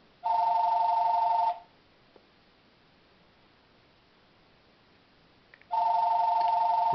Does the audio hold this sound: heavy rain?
no